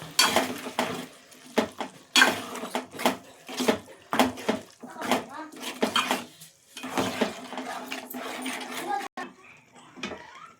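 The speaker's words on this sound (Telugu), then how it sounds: "చూడండి ఇట్లా వాటర్ వేసుకోవాలి" Water is poured from a container into a pot of boiled, mashed red lentil curry with tomatoes. It splashes and gurgles in uneven bursts, mixed with clinks of metal cookware, and a person talks over it.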